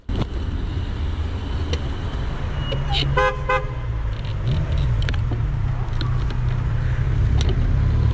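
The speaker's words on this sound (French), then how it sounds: "le chauffeur vient de me klaxonner parce que je me suis arrêté à un passage piéton" A car horn toots in a few short bursts at a cyclist stopped at a pedestrian crossing, amid steady traffic rumble on a street in Paris's 16th arrondissement, fairly close and clear over the road noise.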